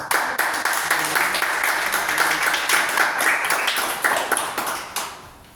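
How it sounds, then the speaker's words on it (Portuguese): An evangelical congregation gives a round of applause in church, dense sustained clapping from many hands, fairly loud and close, tapering off at the end. "Vamos dar uma salva de palmas, irmãos"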